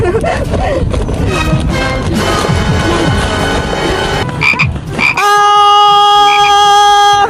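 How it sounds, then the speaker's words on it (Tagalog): Frog croaking from a prank gift box, a loud, steady ribbed croak that cuts in near the end over a busy room full of talking and music. "May palaka! May palaka! Umalis ka rito!"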